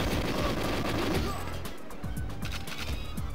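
Automatic gun turrets in the GoldenEye 007 video game fire in a loud, sustained, rapid stream of gunshots, dense and continuous with a sharper burst of repeated shots in the second half.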